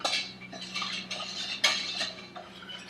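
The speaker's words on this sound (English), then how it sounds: "I'm gonna whisk this together" Half and half and salt are whisked together in a bowl, with quick, close metallic clinks and scrapes repeating in an uneven rhythm, and no talking.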